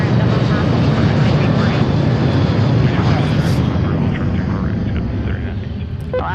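An Alaska Airlines jet takes off at Seattle airport, giving a loud, broad engine roar that stays strong and then slowly eases, with voices speaking over it.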